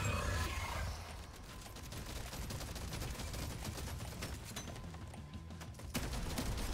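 Boomstick shotgun blasts in Deep Rock Galactic Survivor, loud and continuous over a dense barrage of overlapping game gunfire and roaring creature swarm noise, with a sharper burst near the end.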